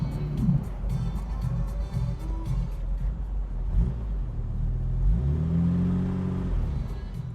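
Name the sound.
1963 Jaguar MK II engine running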